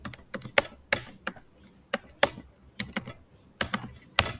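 Someone types a password on a computer keyboard, a close, irregular run of crisp key clicks in small bursts with short pauses between them.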